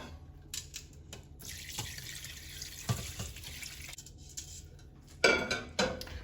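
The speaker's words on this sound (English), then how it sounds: "now we're going to go ahead and strain it" Homemade turkey stock pours through a strainer into a pot in a kitchen, a soft running-liquid splash with faint clinks of utensils and metal, quiet and close.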